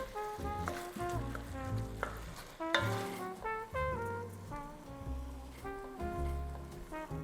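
Ground meat frying in a pan with soffritto and pancetta for a white Bolognese, a steady sizzle lying under louder melodic background music for the whole stretch.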